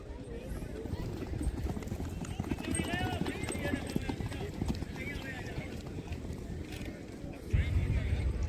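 Horse hooves clip-clopping in a fast rhythmic rewal gait during a horse race at Wankaner, steady hoofbeats throughout with a neigh, over crowd noise and a commentator talking.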